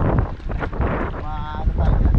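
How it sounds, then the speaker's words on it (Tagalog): Strong gusting wind roars against the microphone near the water and catches an umbrella, a heavy continuous rumble with people talking throughout. "Malakas ang hangin eh. Nababaliktad yung payong eh."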